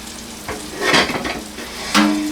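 Battered green tomatoes frying in a pan, a steady sizzle broken by a few scraping stirs and clinks of a utensil, close and moderately loud.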